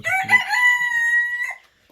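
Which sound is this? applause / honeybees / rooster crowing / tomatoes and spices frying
rooster crowing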